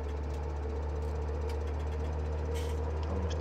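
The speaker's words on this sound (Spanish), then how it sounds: "ha gustado mucho este tractor." Tractor engine in the video game Farming Simulator 17 idling with a steady low knocking drone, constant and fairly loud throughout with no talk.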